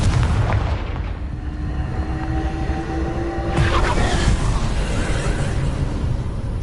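A Confringo spell from Hogwarts Legacy detonates in a deep, booming blast partway through, rising out of continuous low game rumble and fading into a rolling tail.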